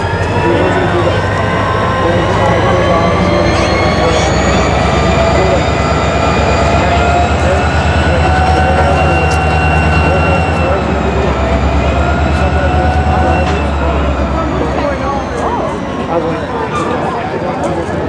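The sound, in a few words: NS local train passing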